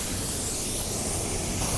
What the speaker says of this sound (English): this is one of my favorite spray guns. It's a Mac Tools spray gun.